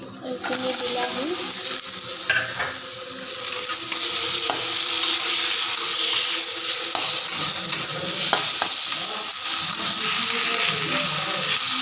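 Tomatoes hit a hot pan and fry alongside rohu fish masala, a loud, dense, continuous sizzle with occasional scrape and stir clicks of a spatula close up, and no one speaking.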